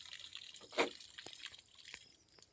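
Water is poured onto a young coconut sapling at an outdoor planting, heard as a faint, brief splash followed by a few soft drips and trickles.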